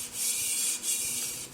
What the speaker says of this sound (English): you could use this kind of like a sanding paper, so you can just kind of go back and forth on the rim